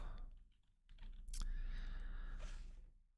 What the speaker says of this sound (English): Love the loud clicking keyboards.